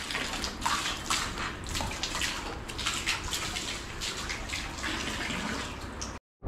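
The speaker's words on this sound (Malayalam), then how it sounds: "ആ കണ്ടില്ലേ, വെള്ളം വരാൻ തുടങ്ങി" Water rushes steadily at close range as it starts flowing through a forest at Kakkadampoyil, a dense, continuous splashing wash that holds evenly for about six seconds before cutting off abruptly.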